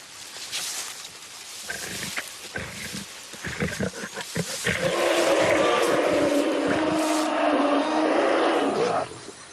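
Wild lions around a carcass give out loud, close, rasping roars and growls, building into a sustained deep roar, with some rustling in between.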